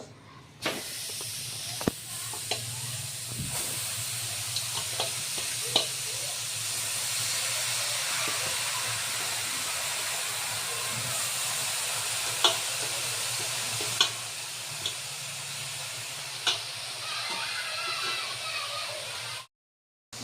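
Grated carrots cook in a kadhai for carrot halwa, giving a steady soft sizzle and hiss of steam with occasional stirring scrapes and clicks, continuous for about nineteen seconds before stopping abruptly.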